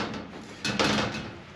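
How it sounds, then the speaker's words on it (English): Cupboard doors in a hostel room being tugged, giving a brief wooden knock and rattle near the middle of an otherwise quiet, close-miked moment. "Nope, those doors don't open."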